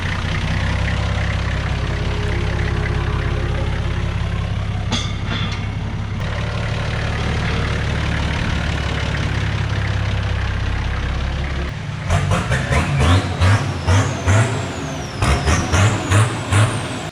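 A car engine idles with a low, steady rumble for several seconds, then gives way to a run of rapid, sharp clicks and hissing bursts near the end.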